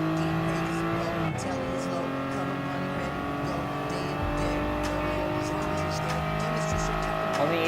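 Race car engines roar and rev in Gran Turismo Sport gameplay, including an S2000 GT1 Turbo, with continuous loud engine drone, gear-shift pitch changes and occasional tire noise while a commentator talks over it.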